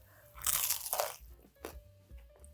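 A loud crunchy bite into a crispy baked chicken wing, followed by a few quieter crunches and chewing, up close with no talking.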